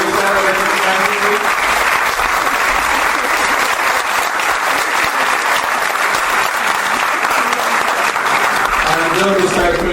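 A Paris film-week audience applauds the film directors with sustained, loud clapping that continues evenly for the full ten seconds, with faint voices mixed in under the claps.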